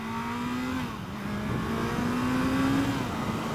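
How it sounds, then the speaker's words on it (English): A Kawasaki Z900 motorcycle accelerates under light throttle, its engine note rising steadily as a loud, continuous drone with wind rush, heard alone without talk. "that acceleration there, I barely leaned on the throttle"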